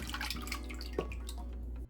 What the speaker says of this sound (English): Now pour over my 8x8 casserole dish. I'm literally just going to pour everything in.